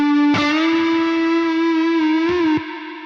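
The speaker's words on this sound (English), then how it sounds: "Sounds a bit like a spring reverb." A sustained, buzzy instrument tone passing through a springy, splashy spring reverb plugin. Twangy echoes linger behind the note, and two sharp attacks set the tail rattling.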